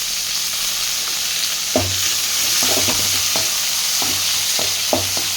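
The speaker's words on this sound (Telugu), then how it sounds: "అలాగే ఆనియన్స్, కరివేపాకు అయితే వేసుకుందాం." Onions and curry leaves fry in oil during a beans palya, a loud close sizzle with repeated scraping stirs of a utensil against the pan and no talk.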